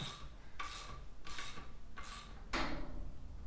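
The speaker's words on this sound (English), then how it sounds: "I think you guys can hear the garage door slamming every once in a while as the wind hits it." A garage door slams and rattles in strong gusts of wind, giving four harsh, scraping bangs at roughly even intervals with a louder final knock, over a steady windy background and no voices.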